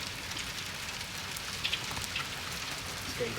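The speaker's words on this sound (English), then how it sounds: "The rain was getting too heavy out there now." Heavy rain pours steadily during a thunderstorm in Waterford, Ireland, a dense continuous hiss of drops on surfaces with a few faint louder patters, no thunder evident.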